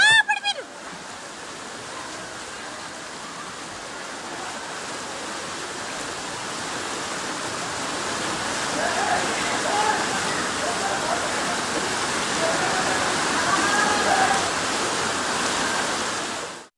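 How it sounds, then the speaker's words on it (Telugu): Floodwater rushes down city streets like a river after heavy rain, a broad, continuous roar of turbulent water that swells gradually and stays loud throughout. "శ్రీనగర్, కృష్ణానగర్లో రోడ్లపై వరద ప్రవాహం నదుల్ని తలపిస్తోంది."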